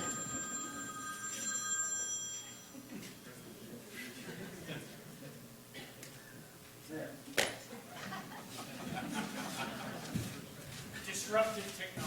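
A telephone bell rings several times in a room, in bursts during the first few seconds, with someone talking over it and brief laughter.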